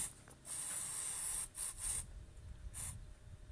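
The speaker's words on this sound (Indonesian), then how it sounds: "Kita coba semprot biar agak licinan, biar agak mudah." Lubricant sprayed in several sharp hissing bursts under a Yamaha Vixion motorcycle during a repair, loud and close, with quieter handling noise between the sprays.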